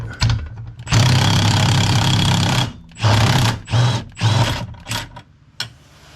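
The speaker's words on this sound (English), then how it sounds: "I'm just going to pull the bolts off" Bolts being pulled off a car, a 1.8T rear-wheel-drive swapped VW Polo supported on a jack, with loud close rattling bursts of a power tool, one long run followed by several shorter ones.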